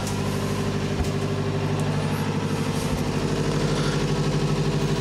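A 1998 Princess 22M motor yacht's engine runs inside its engine room, a loud, steady, close drone with a deep throbbing hum that holds unchanged throughout, with no voices.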